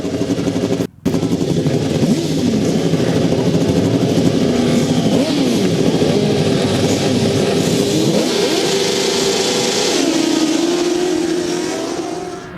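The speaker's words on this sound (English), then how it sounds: "Quickly away then with race number 7, Rob Bradley in 4" Grasstrack racing motorcycles at the 2008 International Poacher meeting roar away from the start, a loud, dense engine blare with rising and shifting revs that fades slightly as the pack pulls off.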